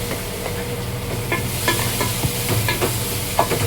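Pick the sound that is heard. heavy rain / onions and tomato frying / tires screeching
onions and tomato frying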